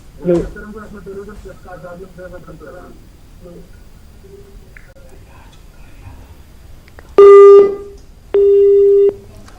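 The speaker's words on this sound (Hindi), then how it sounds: "लगता है कि ये फ़ोन कॉल ड्रॉप हुई है।" On a call-in sports radio programme, a phone line drops with two loud, steady electronic tones, one long and one shorter, after quieter speech-like sounds.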